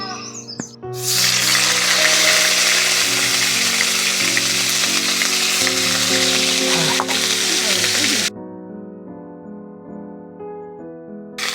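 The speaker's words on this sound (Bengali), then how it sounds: "তেলটা গরম হয়ে গেছে এখন দিয়ে দিচ্ছি পেঁয়াজ বাটা" Onion paste dropped into hot mustard oil in a kadai, for a hilsa fish curry, bursts into a loud close sizzle that holds for several seconds and then cuts off, with music playing underneath.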